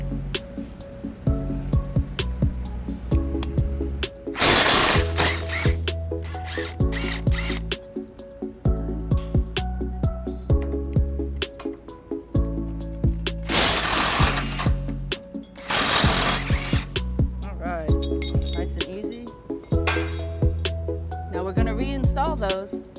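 A hand ratchet clicks in rapid bursts while backing out an existing bolt on a 2017 Toyota Tundra during front mount hitch installation, with short pauses, clanks and a few louder whirring runs, close to the mic.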